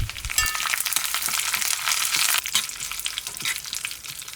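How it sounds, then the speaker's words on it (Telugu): Mustard seeds, cumin, curry leaves and three dried chillies fry in hot oil for a ridge gourd chutney tempering, producing a loud, dense, continuous sizzle with crackling pops, close up and without voices. "కొంచెం కరివేపాకు, 3 ఎండుమిరపకాయలు కూడా వేసుకుని వేయించేసుకుందాం."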